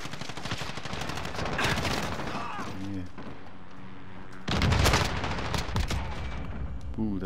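Automatic gunfire in Call of Duty: Modern Warfare multiplayer, loud close bursts of rapid shots with a heavier burst near the end, while players talk over it.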